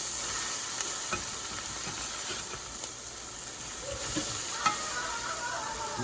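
A vegetable-filled omelette fries in a pan with a constant hissing sizzle, then small bumps and scrapes come as it is flipped over in sections.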